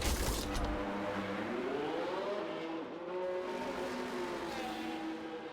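A race car in a racing video game at Monza, its engine droning with rising and falling pitch as it slows into the pits, steady and moderately loud.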